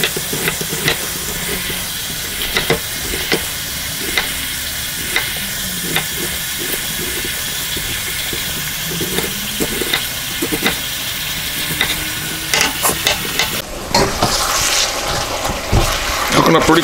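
Food frying in oil in a wok for a stir-fry cheese steak with onion and mushroom, a steady loud hiss and sizzle running throughout with scattered clicks of stirring, a voice talking over it near the end.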